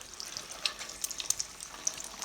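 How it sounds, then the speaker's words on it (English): A Monte Cristo sandwich fries in hot oil in a pan, giving a steady soft crackling sizzle with scattered small pops, fairly quiet and close, with no talking. "we get that frying again"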